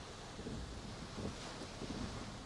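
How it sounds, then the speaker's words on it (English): Strong gusting wind on the coast at Palacios ahead of Tropical Storm Nicholas buffets the microphone, a rough, continuous low roar with small surges and no voices. "The winds it comes and goes."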